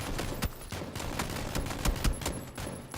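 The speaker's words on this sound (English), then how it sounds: "The power of the machine gun." Machine gun fire in the video game PUBG, rapid sustained bursts of loud gunshots crackling in quick rhythm across the whole stretch, with no talking over them.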